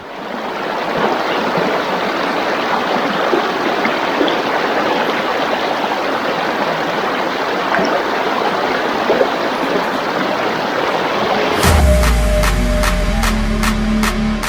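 River water from Maranum Falls rushes in a steady loud hiss of flowing current, close and unbroken, with a burst of handling or wind rumble near the end.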